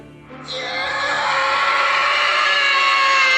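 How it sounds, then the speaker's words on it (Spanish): Anguished screams of dying people rise sharply and swell into a loud, sustained chorus of yelling voices that keeps building over several seconds. "Desgarradores gritos de muerte estremecían el aire, volviéndolo denso."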